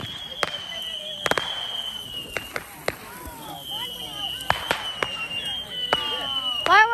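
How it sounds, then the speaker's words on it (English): Fourth of July fireworks and little poppers going off, a string of sharp cracks and bangs at irregular intervals with whistling, crackling bursts toward the end, heard at a moderate distance. "Fireworks."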